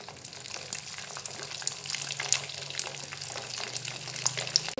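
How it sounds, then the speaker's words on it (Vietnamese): Eggs fry in a pan for Vietnamese egg fried rice, giving a steady crackling sizzle with scattered spatters and occasional stirring scrapes, close and unbroken. "em sẽ chiên trứng cho nó khô khô một chút"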